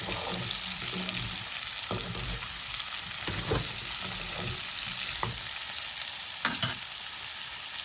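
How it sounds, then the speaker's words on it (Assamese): Mustard green stems are stirred and fried with pork in a pan, giving a continuous crackling sizzle broken by occasional scraping knocks of the spoon. "এয়া এনেকৈ মই দি দিছোঁ অকণমান লাই শাকৰ থৰুৱা। আকৌ ধুনীয়াকৈ লৰাই দিম।"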